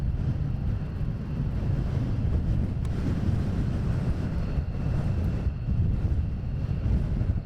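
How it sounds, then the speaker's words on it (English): Gale-force wind roaring across the microphone at RAF Lakenheath airfield, a continuous loud, low buffeting rumble that holds steady from start to finish. "the wind is blowing an absolute gale"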